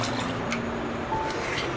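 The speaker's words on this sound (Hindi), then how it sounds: "इसमें थोड़ा सा पानी डालेंगे" About a cup of water splashes and trickles into a pot of cooking mash dal, a soft close pouring sound with no talking.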